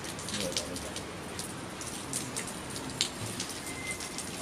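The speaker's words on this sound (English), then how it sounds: "it started raining" Steady rain falls outdoors, a dense continuous hiss of drops with occasional brighter splats close by, and no voices heard.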